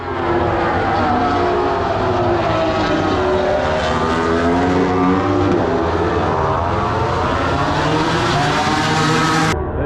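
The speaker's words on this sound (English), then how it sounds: "my first MotoGP MotoGP is bloody noisy, exhilarating" MotoGP racing motorcycles screaming past at a circuit in Buriram, a loud sustained high-revving engine roar with sweeping pitch changes as bikes pass, continuous for about ten seconds with no talk.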